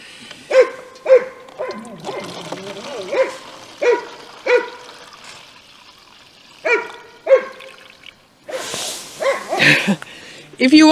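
A dog barks repeatedly at an old car tire outdoors in early spring during maple sap collection, sharp close barks in irregular bursts with pauses, with trickling water and faint talk around.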